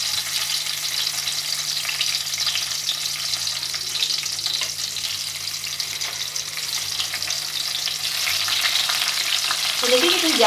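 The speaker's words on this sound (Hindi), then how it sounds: "ऑयल मैंने किया है हल्की आंच के ऊपर गरम, और अब मैं इसमें डालूंगी भिंडियाँ" Okra (ladyfinger) fries in a little oil over low heat, a close, even crackling sizzle that carries on steadily and grows a bit louder near the end, with a faint hum underneath.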